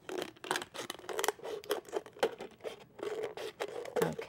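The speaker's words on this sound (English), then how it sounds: "now you can switch over to your scissors and just stick them in, and then now you're ready to cut" Scissors cut a plastic pop bottle into a ring, making a quick run of crisp snipping and scraping strokes, close and fairly loud, with no talk.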